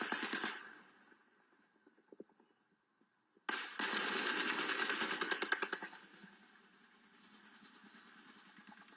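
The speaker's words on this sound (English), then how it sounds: "It sounds like automatic gunfire." Automatic gunfire recorded from a distance, long rapid bursts of shots rattling in quick succession, a short burst, a pause, then a sustained volley that fades into quieter continuing fire, no talk.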